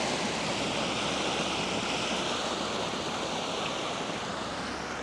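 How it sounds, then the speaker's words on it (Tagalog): River water flows beside a pedestrian bridge at a campsite in Parson, British Columbia. The rush is steady and full, a close, unbroken roar with no talk over it. "Nakaka-relax yung tubig."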